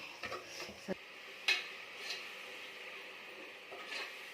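Ginger garlic paste frying in a pan, with a soft sizzle, light stirring scrapes and a few sharp utensil taps against the pan, all quiet and close.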